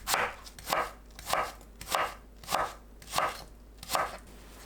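An apple being julienned into 0.5 cm strips with a kitchen knife on a cutting board, giving seven evenly spaced, crisp chopping knocks, close and clear, in a quiet room with no talking.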